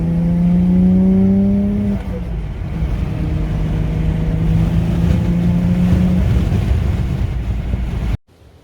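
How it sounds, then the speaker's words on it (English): Car engine pulling hard as the VTi variable valve timing kicks in after a little boost lag, rising tones climbing steadily under constant road and wind noise, loud and close, then cutting off abruptly. "The VTI kicks in."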